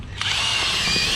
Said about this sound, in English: hook it up to our battery drill